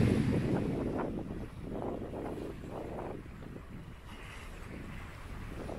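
Steady gusty wind of 15 to 20 knots roaring over open water at a sailboat between the Canary Islands, with rushing low noise and buffeting against the microphone throughout, no voices.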